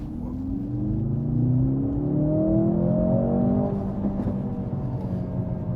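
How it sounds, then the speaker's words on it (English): A 2024 Mercedes-AMG C63 in Sport Plus mode accelerates hard from a rolling start on a slightly rough road, its engine note climbing steadily through a loud, sustained run before settling into road rumble. "The car definitely gets up and moves in a hurry, and that's a rolling start, by the way."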